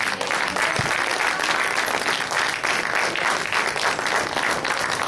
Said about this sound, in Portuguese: Vamos aplaudir o Senhor pela sua palavra.